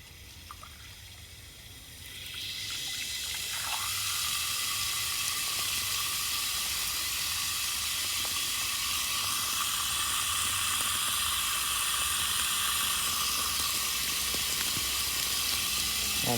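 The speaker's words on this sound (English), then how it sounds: "So let's see if we can catch the water coming out of this thing." A Buckner 1294 full-circle cam rotor sprinkler sprays water, starting with a faint hiss that builds into a loud, steady rushing spray held for over ten seconds.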